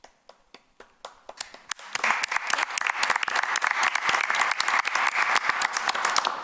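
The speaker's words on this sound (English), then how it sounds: "I love it when people clap for good data." An audience at a school board meeting starts with a few scattered claps that quickly swell into steady, dense applause, close and lively to the end.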